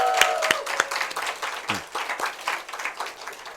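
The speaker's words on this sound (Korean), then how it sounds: "박수 맞죠?" A church congregation claps in a scattered burst, a few sharp, separate hand claps followed by a fuller ripple of applause, with voices briefly mixed in.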